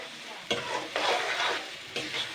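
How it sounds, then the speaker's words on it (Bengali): Mixed vegetable peels from potato, pointed gourd, pumpkin, bottle gourd, green banana and ridge gourd fry in a spice mix, with three quick stirring scrapes bursting over a close, constant sizzle. "এই যে সবজির খোসাটা আমি দিয়ে দিলাম এবার এটাকে দিয়ে ভালো করে কিন্তু নাড়াচাড়া করব"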